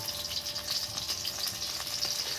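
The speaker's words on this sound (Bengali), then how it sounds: "বন্ধুরা আমি এই কড়ার মধ্যে এতগুলো বেগুন ভেজেছি" Eggplant slices fry in hot oil in a kadai, giving a steady, close sizzle with fine crackling spread evenly throughout and no pauses.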